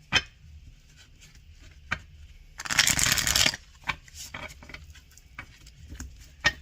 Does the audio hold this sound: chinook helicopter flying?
no